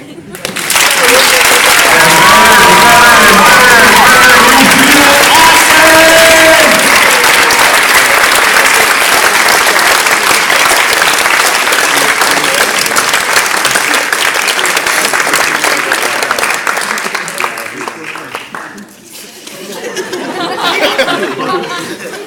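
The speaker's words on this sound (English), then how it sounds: "The more applause you hear, the better you feel." Sustained audience applause at a hypnotism show fills the room loudly for most of the stretch, with chatter and scattered chuckles mixed in early, then dips and briefly swells again near the end.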